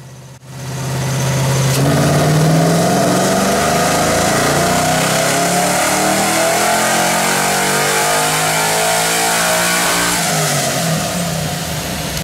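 A naturally aspirated Infiniti G35 fitted with a 4.8 engine and no supercharger runs loud and close, rising quickly into a sustained rev that holds steady for several seconds before easing off near the end.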